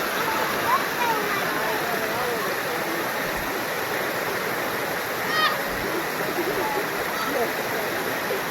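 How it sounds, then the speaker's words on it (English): A small waterfall along a hiking trail at Hogback Ridge, a steady broadband rush of falling water that stays constant throughout, with faint birdsong above it. "we are hitting up another little waterfall."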